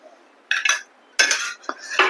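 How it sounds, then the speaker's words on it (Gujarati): A whisk clinks against a bowl while curd is mixed into thickened, cooled milk, several sharp metallic scraping strokes in short bursts separated by brief pauses, close and clear. "દહીંને આપણે આમાં સારી રીતે મિક્સ કરી લેવાનું છે"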